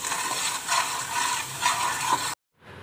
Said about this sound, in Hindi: इन सब चीज़ों को हम लोगों ने अच्छे से जो है भून लेना है।